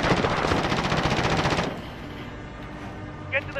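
Dense, continuous automatic gunfire from Call of Duty: Modern Warfare, loud for the first second and a half before cutting to quieter battlefield ambience with a faint distant shot near the end.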